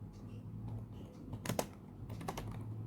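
Java code being typed on a computer keyboard: soft, close keystrokes in a quiet room, with a few quick clusters of taps and short pauses between them.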